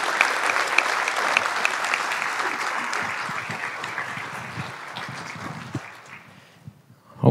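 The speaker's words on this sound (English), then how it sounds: "let's give one more round of applause for Thomas Linzey" An audience at a public and allied health symposium gives a keynote speaker a full round of applause. The clapping is dense and sustained, then thins and fades out near the end.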